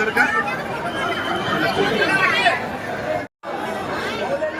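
A large crowd of pilgrims at the Mahakal temple in Ujjain produces a dense, constant babble of many voices close by, briefly cut off by a short silence before resuming.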